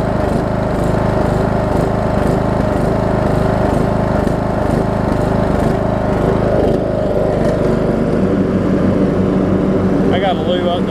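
Briggs and Stratton engine on a Troy Bilt Bronco riding mower idling after a valve adjustment, a loud, close, even rhythmic chug that holds steady throughout.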